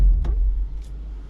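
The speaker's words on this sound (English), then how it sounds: "So what I'm gonna do is turn the car off." A 2017 Ford Mustang engine switching off: a deep, loud idle rumble sags and fades, with a couple of faint brief clicks as it dies away.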